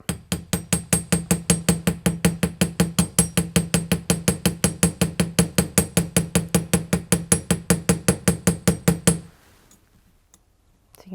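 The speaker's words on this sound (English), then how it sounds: "I'm just going to go ahead and hammer the piece up and down to give a bit of texture to it." A metal hammer strikes a copper piece on a hard surface to texture it in a jewellery workshop, giving about forty sharp, evenly spaced ringing taps in a fast steady rhythm before stopping, followed by quiet.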